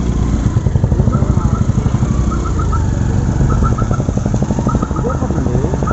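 A motorcycle engine chugs loudly and close with a rapid pulsing beat, steady throughout, with faint high chirps over it, on a trail through dense forest.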